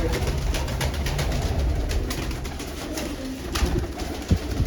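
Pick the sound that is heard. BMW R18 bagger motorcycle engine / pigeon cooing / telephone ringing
pigeon cooing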